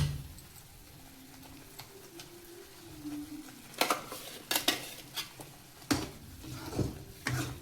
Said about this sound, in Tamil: அப்படியே நம்ம இந்த அரைச்சி வச்ச பேஸ்ட்டை வந்து இதுக்குள்ளே போட்டு அப்படியே நம்ம கிண்டிட வேண்டியதான்.